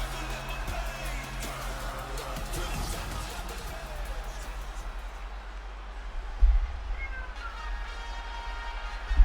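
A cat meows a few times, moderately close, over low background noise and faint game sounds.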